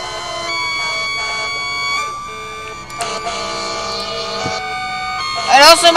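Loud manual cue sirens blare at a Christmas parade with fire trucks, steady overlapping siren tones with a horn blast near the middle and a rising, warbling siren surge at the end.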